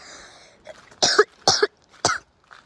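Three or four sharp, fairly loud coughs in a short burst, close by, with no talking around them.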